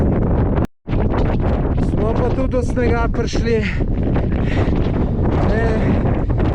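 Strong wind on the upper slopes of the Pico Viejo volcano on Tenerife roars steadily and loudly against the microphone, while someone speaks over it.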